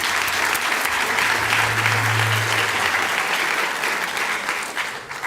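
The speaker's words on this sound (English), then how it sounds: "so a round of applause, even though you don't feel it" A room of staff at a university staff assembly applauds in a full, sustained round of clapping that stays strong for several seconds before easing off near the end.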